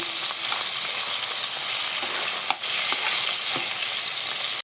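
Rohu fish pieces fry in hot oil in a kadai, giving a loud, continuous close sizzle with a few faint taps of stirring. No one speaks.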